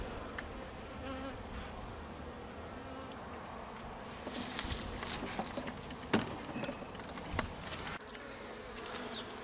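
Honeybees buzzing steadily in an opened hive during inspection of a weak colony, a continuous close drone with faint scraping and small knocks rising in the middle, no talking.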